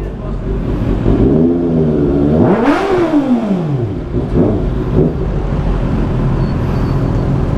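A 2024 Kawasaki ZX6R motorcycle fitted with a 99 Racing R99 carbon exhaust blips the throttle once, its loud, close engine note climbing sharply and falling away, followed by smaller revs over a steady idle.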